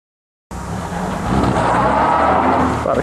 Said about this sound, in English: Driving down this road, a Mark V Cortina estate with no roof on it.